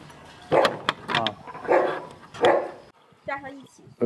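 Doberman dogs bark in a breeding kennel holding many dogs, a few sharp barks echoing at moderate distance amid voices talking.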